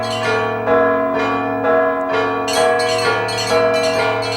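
Orthodox church bells ringing at St. Vladimir's Cathedral in Kiev, several bells struck in repeated rhythmic strokes with long ringing overtones layered over a deep sustained hum, loud and resonant without any speech.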